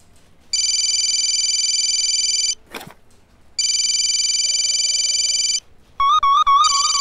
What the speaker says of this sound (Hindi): संतोष शर्मा फोन लगाइए।